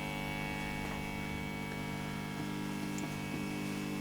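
A VOX AC30 guitar amplifier with a crackling fault gives off a steady mains hum, a constant buzzy drone with stacked harmonics that sits alone and fairly quiet, broken only by a few tiny ticks.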